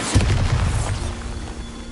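A Bombarda blasting spell in Hogwarts Legacy lands as a heavy, booming explosion with a deep low rumble, then a fading roar that lingers for over a second.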